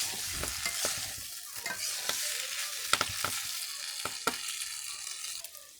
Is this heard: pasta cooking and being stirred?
yes